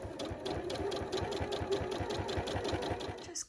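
A sewing machine stitches a seam in quilt fabric, with a fast, even, close rhythmic whirring and tapping that runs steadily and stops abruptly at the end.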